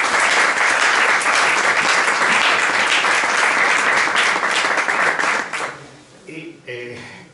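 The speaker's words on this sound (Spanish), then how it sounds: "De aquí un aplauso para él" Audience at a book presentation in a house museum claps warmly for an author in a long, dense round of applause that fades out, followed by a voice beginning to speak.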